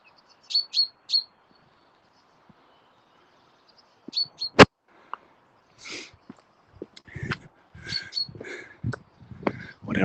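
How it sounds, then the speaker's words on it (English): A bird outdoors in spring gives bright, high chirps in short bursts, then a quicker run of varied calls close by, with a few low thumps and rustles between the calls. "That's the bird that's making all that noise."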